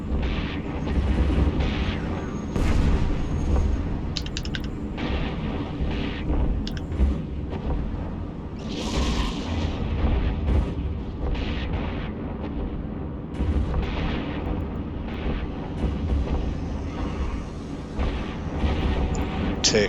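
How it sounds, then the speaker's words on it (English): Ship missiles and guns firing in EVE Online, heard as a steady stream of muffled booms and low rumbling bursts over a dense game soundscape, with occasional brighter blasts and faint talk underneath. "send a missile after that one and all 3 guns"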